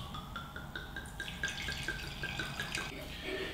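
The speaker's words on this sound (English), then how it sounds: "We are going to give it a little pour." A 2019 Portuguese Douro red wine is poured from the bottle into a glass, with a short, close, gentle trickle and splash whose tone rises as the glass fills.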